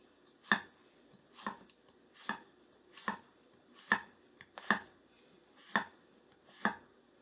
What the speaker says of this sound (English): next thing I'm going to do is test out the carrot cut test